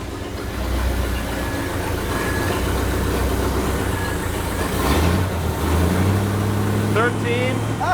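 Old car engine, unused for 40 years, revving with a continuous rough, rumbling drone close by, rising in pitch toward the end while people talk over it.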